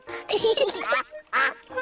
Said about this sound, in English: Here's some bread, Mrs. Duck.